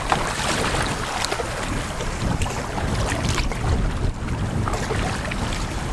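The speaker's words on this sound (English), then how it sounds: "Wind has really picked up" Strong wind sweeps across an open wilderness lake, a loud, steady roar of gusts buffeting close by with no pauses or lulls.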